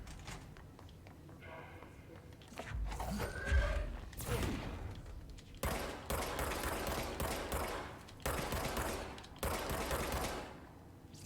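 Gunfire in Control crackles in several dense bursts of rapid shots, loud and close, separated by brief pauses, with a person talking during parts of the fighting.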